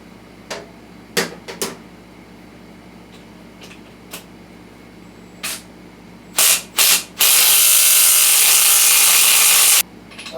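An impact wrench loosens the rear axle nut on a KLR650 motorcycle in one loud, sustained buzzing burst lasting over two seconds, preceded by scattered knocks and clunks of handling tools.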